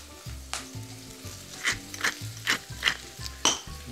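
Sofrito with kale sizzling in a pan, a soft steady fry broken by a series of light stirring scrapes and clicks, close and fairly quiet.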